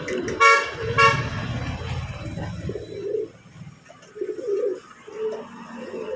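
Pigeons kept for sale, soft low cooing in short repeated phrases close by, with a couple of sharp higher calls near the start, and no one talking.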